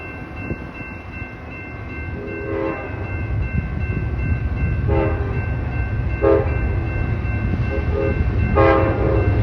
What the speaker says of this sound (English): Here's where you'll find the horns being used.